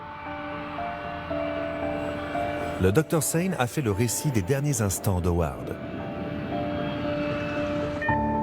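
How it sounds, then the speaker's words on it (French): An airplane takes off with a steady, humming engine drone that runs throughout, partly under someone narrating in French. "La tour de contrôle autorise le décollage."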